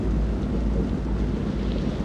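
Stormy weather at sea aboard a boat in the game Man of Medan, with a steady, loud low rumble of wind and water that carries on without a break and no clear thunder crack.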